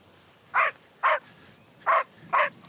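A search dog barks four times outdoors in the Devon countryside, short evenly spaced barks, clear and moderately close, with no talk between them.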